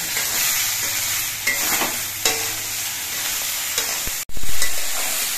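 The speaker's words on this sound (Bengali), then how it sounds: "3-4 মিনিটের মতো ভেজে নেওয়ার পরে কিন্তু দেখুন বেগুনগুলো ভাজা হয়ে গেছে আর আলুগুলোও ভাজা হয়ে গেছে" Eggplant and potato pieces fry in a pan with a steady, close sizzle, broken by a few scraping stir strokes and a sharp clatter near the end. No one speaks.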